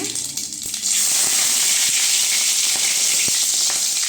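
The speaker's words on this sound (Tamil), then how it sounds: "எண்ணெய் சூடாகிடுச்சுங்க கடுகு உளுந்து பருப்பு சேர்த்துக்கலாம் கருவேப்பிலை சேர்த்துக்கலாங்க" Mustard seeds, urad dal and curry leaves hit hot oil and break into a loud, steady sizzle that starts about a second in and keeps crackling evenly to the end.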